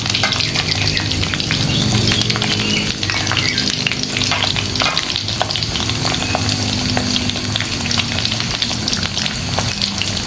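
Salted fish fries in a hot pan with a loud, steady, crackling sizzle that runs without a break, along with occasional stirring scrapes and no voices.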